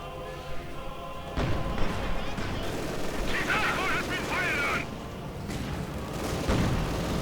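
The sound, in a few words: indirect artillery fire in a strategy video game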